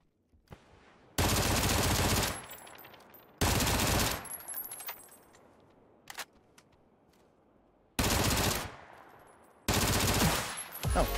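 Automatic rifle fire in the battle royale game PUBG comes in four long, loud bursts of rapid shots separated by quiet gaps, with a brief single shot in between and faint sounds trailing after each burst.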